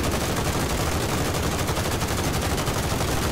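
Continuous heavy gunfire in the Modern Warfare video game's Armored Royale mode: loud, rapid automatic bursts rattle without pause from start to finish.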